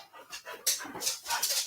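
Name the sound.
dogs panting and whimpering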